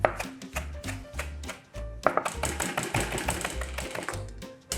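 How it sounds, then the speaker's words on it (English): A knife chops parsley finely on a board, a quick run of sharp close taps in bursts with a short pause midway and no voices. "Chop this up really good because I'm gonna put this in a piping bag"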